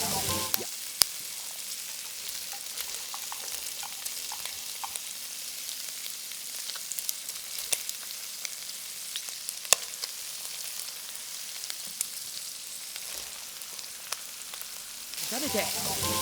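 Diced pork stir-fried in a pan for a pork kimchi bowl: a steady loud sizzle runs throughout, broken by sharp scrapes and taps from stirring.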